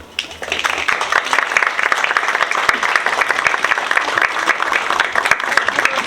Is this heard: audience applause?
yes